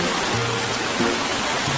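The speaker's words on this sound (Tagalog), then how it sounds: "Alam mo yan, ulan no?" Rain falling in a continuous, loud, close hiss of drops on surfaces, steady throughout with a few low tonal hums beneath and no talking.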